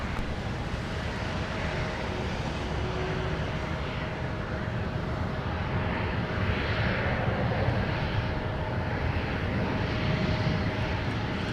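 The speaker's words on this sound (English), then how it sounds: "there's our Houston Rocket 767" A Houston Rockets Boeing 767 at MSP airport gives off a steady, distant jet engine roar with a faint whine, swelling slightly toward the end amid open-air wind noise.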